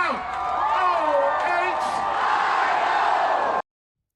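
A crowd at the Gem City Shine benefit concert in Dayton's Oregon District cheers and whoops loudly, a dense, sustained roar with voices rising above it, then cuts off abruptly.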